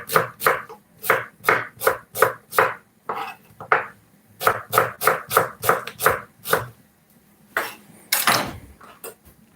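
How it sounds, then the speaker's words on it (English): Knife cutting an onion into julienne strips on a board, a rapid run of crisp close chops in steady rhythm, a short pause, then another quick series ending in a few heavier knocks. "We're gonna cut some slice. We're gonna cut some julienne."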